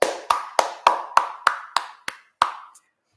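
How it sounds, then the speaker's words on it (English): Clapping after a Drupal conference talk on the Gin admin theme: about ten crisp, evenly spaced claps in a steady rhythm, close and distinct, slowing and stopping near the end. "So give them a round of applause"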